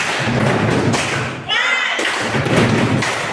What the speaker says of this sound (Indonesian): Biar lebih semangat kita tepuk semangat dulu ya.